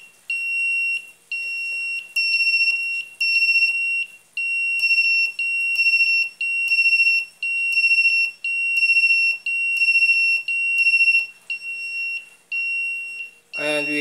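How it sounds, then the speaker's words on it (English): Automatic electronic buzzer driven by a 555 timer clock circuit, sounding a shrill high-pitched tone in regular on-off pulses, about a dozen evenly spaced beeps, loud and close, ending with a brief click. "this one is an automatic buzzer because of the 555 timer that serves as a clock"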